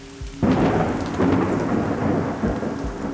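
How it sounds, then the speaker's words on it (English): A thunderstorm near an airport, with steady heavy rain drumming on surfaces and deep rumbles of thunder rolling underneath, loud and continuous with no voices. "it appears we have a second part of this storm moving through"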